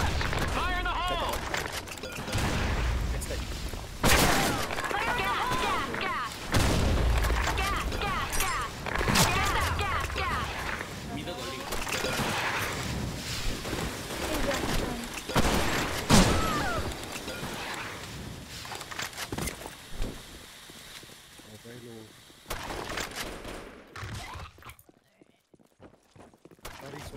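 Grenade explosions and rapid gunfire in the online shooter Blackshot during a competitive match, dense bursts of shots and blasts packed closely together, loud and near, with game voices calling out over the battle.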